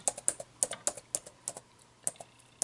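Quick, light clicks of typing on a computer keyboard, irregular bursts of keystrokes close up, with no talking.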